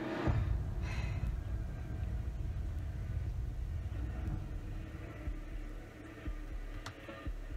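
A generator running in a creepy Granny horror game, a steady low droning rumble and hum that holds throughout at moderate level, with faint scattered clicks over it.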